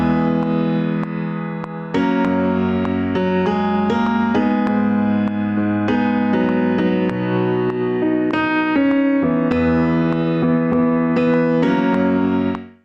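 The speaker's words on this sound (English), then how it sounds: "So this piano, a little brighter sounding, and sounds like this." A brighter second piano part plays basic chords that sometimes land just before the downbeat, sustained and steady throughout with layered harmonics and no talking.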